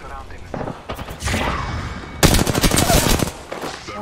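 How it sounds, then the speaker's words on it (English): Rapid gunfire in the Apex Legends video game: bursts of automatic shots crackle close and loud in rough clusters, with a voice talking over the action. "Opening fire."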